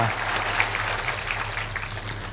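An audience at a Marathi kirtan, a Ram katha, claps for Baba in a dense, steady round of applause with a low hum underneath, lasting a couple of seconds.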